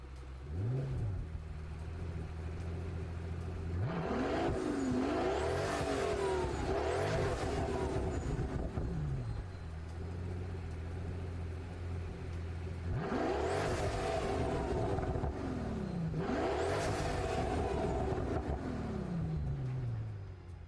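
A V12 engine swapped in from a Pagani Huayra revs hard in Gran Turismo 7, several loud rising-and-falling revving bursts over a steady idle rumble, with no talking.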